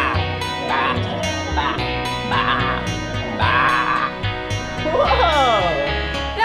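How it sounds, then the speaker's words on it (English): Sheep bleats from a children's museum animal exhibit come in several wavering calls, loud and close, mixed with background music and voices. "That was the sheep."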